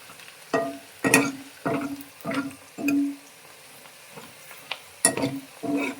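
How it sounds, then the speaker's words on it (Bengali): Curry leaves stirred and fried in coconut oil for homemade herbal hair oil, a series of separate scraping and clinking spoon strokes against the pan over a faint, quiet sizzle, close by, with no talking. "কারি পাতাটা দিয়ে এরকম করে নেড়ে চেড়ে নেব, সব জিনিসগুলো সুন্দরভাবে ভেজে নেব এমনভাবে"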